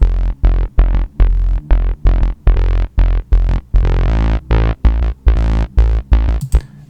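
Synth bass line programmed in Logic with no plugins, dry and unprocessed: a loud, steady pattern of short rhythmic notes with brief gaps between them, heard alone with no voices.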